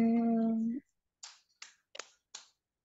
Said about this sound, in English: Yes, that is clap.